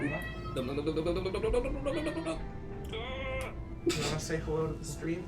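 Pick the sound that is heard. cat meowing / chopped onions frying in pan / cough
cat meowing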